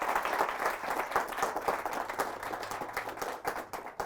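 A church congregation claps and applauds loudly for several seconds during a Catholic healing service, a dense, steady wash of many hands with no talking over it.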